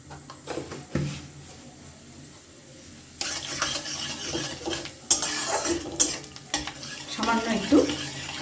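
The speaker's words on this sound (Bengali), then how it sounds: "দিয়ে দিচ্ছি একটু জিরে" Cumin seeds and a dried red chilli hit hot oil for a Bengali egg tadka, starting with quiet pan clatter, then a sudden burst of close sizzling with repeated metallic spoon clinks and stirring scrapes, no speech.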